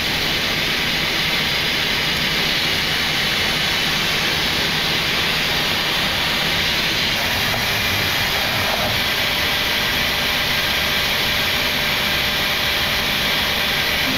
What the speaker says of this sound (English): Start number 1 engine.